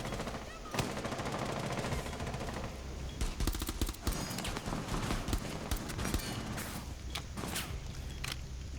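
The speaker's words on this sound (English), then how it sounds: "Shoot through the wall, James!" Gunfire in a first-person shooter video game, with rapid bursts of automatic shots and single cracks coming in clusters over a steady background bed.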